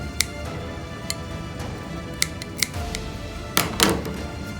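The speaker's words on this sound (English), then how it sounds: "I put my scissors down on top of my finger to make sure it's not going through my finger, and then just snip" Scissors snipping small holes into fabric for a no-sew dice bag, a series of sharp, close clicks and snips spaced irregularly, louder and doubled toward the end.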